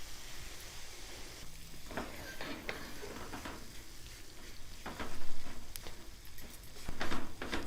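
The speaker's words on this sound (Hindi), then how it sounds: "इसे हमने कंटिन्यूसली चम्मच चलाते हुए कुक करना है, मीडियम टू लो फ्लेम पर 5 से 10 मिनट तक" Maida flour roasting in hot ghee in a pan while a spoon stirs it steadily, a soft frying sizzle with scattered scraping clicks and two louder swells of stirring near the end.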